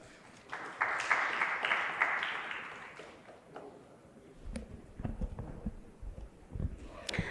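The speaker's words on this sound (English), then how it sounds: "Let's have a round of applause" Audience applause at a conference talk welcoming a speaker to the stage, a moderate burst of clapping in a hall that fades after a few seconds, followed by scattered footsteps and faint shuffling.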